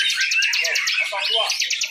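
Murai Batu (white-rumped shama) songbirds sing at a village bird contest, loud, close, rapid trilling and whistled chirps repeating in quick bursts with no voices over them.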